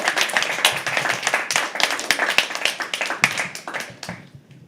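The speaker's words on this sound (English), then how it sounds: "Guys, keep the applause going for our next performer, Sara." Live audience at a poetry open mic clapping steadily for the next performer, a dense, sustained burst of handclaps that thins and fades out near the end.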